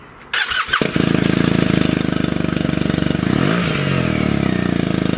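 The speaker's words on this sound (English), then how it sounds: "So let's start it up, shall we? Switch it on." A BMW R1200GSA motorcycle with a Lextek aftermarket exhaust cranks briefly, catches and settles into a loud, steady idle with an even, throbbing rumble.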